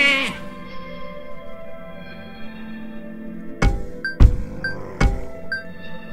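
A polymorph spell in Runestone Keeper turns a troll into a sheep, followed by a trio of short, sharp sheep bleats in quick succession over soft game music.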